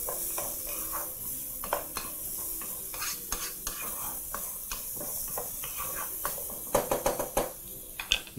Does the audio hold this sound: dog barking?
no